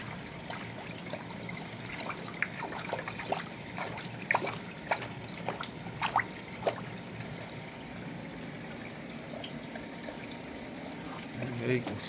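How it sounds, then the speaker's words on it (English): A small backyard creek channel being cleaned, with water trickling and dribbling steadily through it, bright splashy droplets scattered throughout and a low constant flow underneath, close by. "Make sure that water is flowing constantly through here as well."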